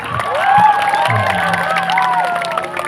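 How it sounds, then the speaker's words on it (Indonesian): School students at SMAN 1 Losarang clap and cheer together in a hall, a loud crowd swell with whoops and children's shouts rising over scattered clapping, with some voices mixed in. "Kurang rame, sekali lagi tepuk tangannya."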